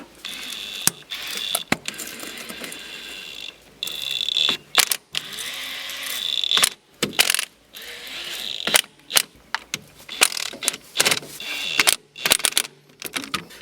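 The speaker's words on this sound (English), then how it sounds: "So I'm using this impact wrench just because it's just incredibly convenient." An impact wrench on its lowest setting tightens bolts in a run of sharp, ratcheting bursts with brief pauses between them, loud and close, while someone speaks now and then.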